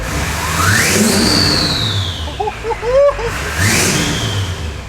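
A Duramax K20 pickup truck engine revs on a throttle pull, rising and falling in a loud, close surge with a whooshing sweep; people talk over it partway through.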